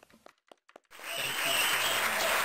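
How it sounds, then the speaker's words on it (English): A few brief spoken sounds give way to sudden, sustained applause from a large audience, loud and steady clapping that fills the room. "So please, a big round of applause for Dr."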